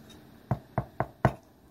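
Four hollow knocks on the crust of a freshly baked loaf to test doneness, evenly spaced about a quarter second apart, close and distinct against a quiet room.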